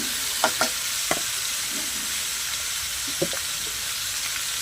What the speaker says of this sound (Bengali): আর কুমড়োগুলো দিয়ে ভালো করে লবণ দিয়ে ঢাকিয়ে ভালো করে একটু কষিয়ে নেবো।